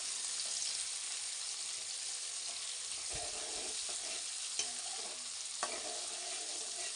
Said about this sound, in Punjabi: ਪਿਆਜ਼ਾਂ ਨੂੰ ਵੀ ਆਪਾਂ ਹਲਕਾ ਬ੍ਰਾਊਨ ਕਰ ਲਵਾਂਗੇ ਉਨੀ ਦੇਰ ਤੱਕ ਪਕਾਵਾਂਗੇ ਪਿਆਜ਼ਾਂ ਨੂੰ